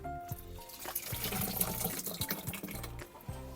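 Water runs and splashes into a container to dilute an organic slurry, a close, gurgling pour with uneven spurts and drips throughout.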